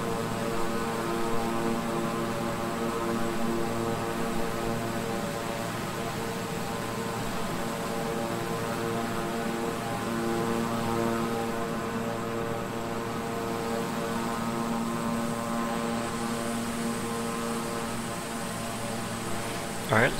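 A King Air 350i twin-engine turboprop cruises at altitude in Microsoft Flight Simulator, giving a steady, droning propeller hum with layered tonal whine that holds evenly throughout.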